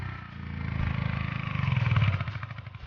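A motorcycle engine labors up a steep hill road in Ziro Valley, a faulty bike giving a rough, pulsing drone that swells and fades close by, with no talk over it.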